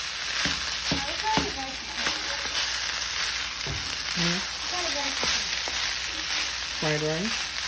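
Egg being stirred into chicken fried rice in a hot pan: a loud continuous sizzle with scraping stirs and clinks, while a voice speaks intermittently over it.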